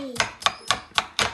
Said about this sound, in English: you thinly slice your onions